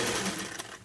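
A sewing machine runs steadily as it stitches a seam joining fabric to its lining, with a continuous motor whir close up that stays at a constant level and carries no talking.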